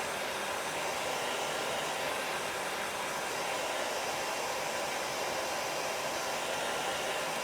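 A hair dryer blows steadily close by to dry ink on a t-shirt, a constant loud whooshing roar with no breaks and no voices.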